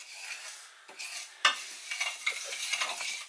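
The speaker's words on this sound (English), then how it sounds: "I just keep it moving around in the pan, and I turn that to sort of a medium-high heat" Dried red chillies being stirred as they toast in a pan over medium-high heat, giving a soft, continuous scraping and light sizzle with a sharper clink near the middle, close and steady with no talking.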